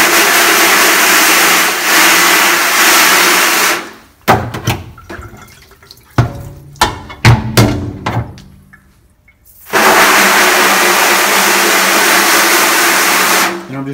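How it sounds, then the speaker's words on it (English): A regular garden hose sprays water to wash emulsion from a screen printing screen, loud steady hiss at the start and end, broken by a quieter middle stretch of scattered knocks and splashes. "I'm just using a regular garden hose."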